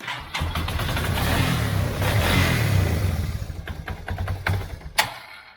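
A Yamaha Bear Tracker ATV engine runs steadily close by, a low rumbling drone that holds for several seconds before settling into uneven chugging, with a sharp knock near the end.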